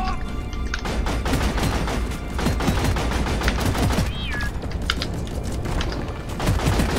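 Rapid handgun gunfire in the game Deep Rock Galactic, a dense string of sharp, loud shots repeating steadily throughout amid chaotic combat noise, with a brief high tone partway through.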